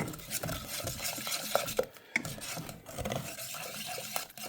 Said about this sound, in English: You got to keep stirring it, and you got to make sure everything gets melted down into it.